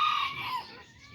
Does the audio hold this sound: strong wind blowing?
no